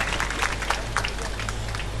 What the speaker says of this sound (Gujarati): તાળીઓ પાડો મારો બાપ.